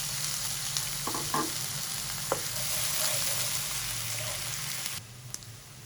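Chopped onions hit hot oil with cumin seeds in a home kitchen and sizzle in a continuous, close, crackling hiss. A few stirring clinks come through, and the frying turns quieter near the end.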